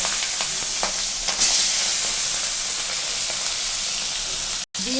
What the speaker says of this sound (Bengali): তেল ছেড়ে দিয়েছি গরম হয়ে গেছে আমি এখন মাছগুলো ভাজা করব